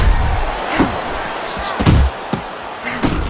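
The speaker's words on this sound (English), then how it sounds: "Little head knocking with that right hand." Punches thud in a Fight Night Champion boxing match, a handful of sharp impacts spread over a few seconds under a noisy crowd, with a commentator's voice in the background.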